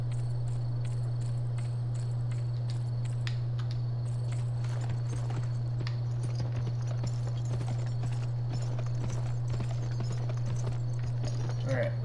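Horse hooves clip-clop steadily in the Western video game Gun, soft repeated footfalls over a constant low hum and faint insect-like chirping, with a voice talking over them.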